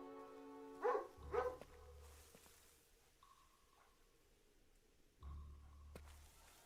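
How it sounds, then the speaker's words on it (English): A dog in an Xbox 360-era video game gives two quick barks close by, then a pause with faint game ambience and scattered soft tones, and a low rumbling swell near the end. "Follow the dog closely."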